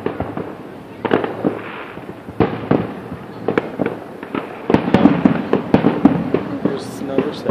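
Fourth of July fireworks burst overhead in a rapid, uneven series of sharp cracks and booms, some near and loud, layered over a constant crackle, while people talk now and then underneath.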